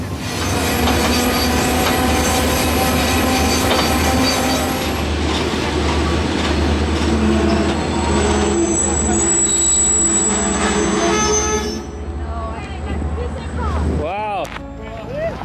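An iron ore freight train rumbles steadily along the rails across the Sahara Desert with metallic squealing and clatter, loud and close, then slows as wheels screech near the end.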